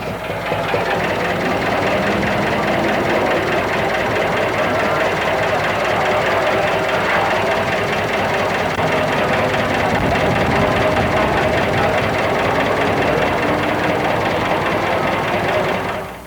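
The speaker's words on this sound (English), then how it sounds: "The engine's up front, and some of the moving parts can be checked visually while it idles." A 1934 Morgan three-wheeler sports car with its engine up front idles steadily and loudly at close range throughout, a dense continuous rumble with mechanical clatter at a San Diego historic grand prix event.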